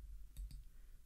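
Two quick computer mouse clicks close together while editing in Photoshop, faint and alone over quiet room hiss.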